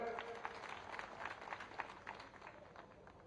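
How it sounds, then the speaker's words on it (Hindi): Crowd at an outdoor political rally in Narsinghgarh, Rajgarh, clapping and applauding in a burst of scattered claps that fades slightly toward the end, heard at moderate distance without talk. "एक बार जोरदार ताली बजाकर"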